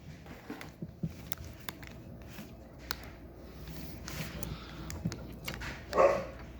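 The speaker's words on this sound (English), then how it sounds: "that's Kumar barking" A dog barks somewhere off in the distance indoors, a few faint scattered yips and woofs with one louder bark near the end, over low room noise.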